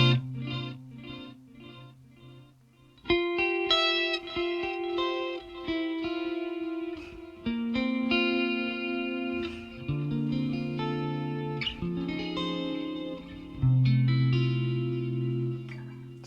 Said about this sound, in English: So that's like a typical tape echo